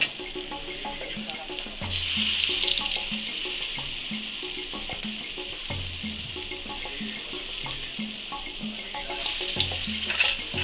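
Coriander-mint vadas frying in hot oil give a steady sizzling hiss throughout, swelling louder at the start and again near the end, with faint low clatter and no talking.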